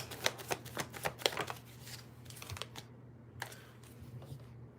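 Tarot cards being shuffled by hand, a run of quick crisp riffling flutters and soft slaps close up, clustered at the start and fading into brief quieter bursts over a low steady hum.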